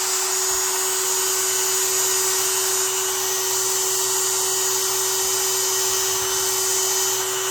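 A vintage electrician's knife being buffed with heavy duty number 7 rubbing compound on a power tool, giving a loud, continuous high-pitched motor whine with a steady tone and no voices.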